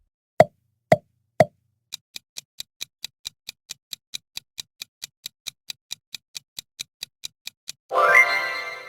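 A logo sound effect: three soft pops, then a steady run of light ticks building up to a bright, shimmering swell at the end.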